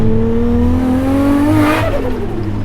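A Nissan 300ZX with an RB engine swap and a big turbo accelerates hard, its engine note climbing steadily in pitch and loud throughout before easing off near the end.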